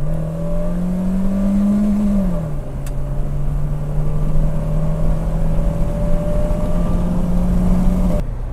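BMW E30 engine running in drive with the brake held, idling under load at about 1000 RPM, a steady low drone with a slight drop in pitch early on and continuous road-cabin hum, no talking.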